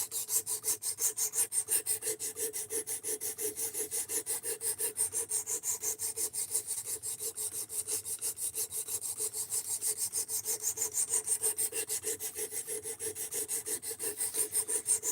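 A knife bevel is sharpened with steady, rhythmic strokes against a stone, each rasping pass repeating evenly and close by, with no talking.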